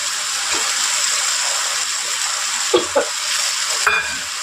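Potatoes fried in spiced oil with pumpkin and prawns sizzle steadily in a pan, a loud close hiss broken by a few clattering stirs and scrapes, with no talking.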